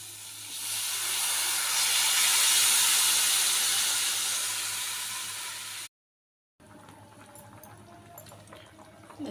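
A pot of cowpea curry with tamarind boils on the stove, giving a loud, steady bubbling hiss for several seconds before it abruptly cuts to quieter kitchen noise.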